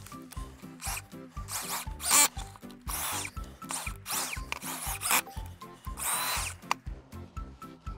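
A powered earth auger bores into dense, clayey ground with a pulsing mechanical grind, close and fairly loud, straining and scraping in rhythmic bursts as the bit cuts through the heavy soil.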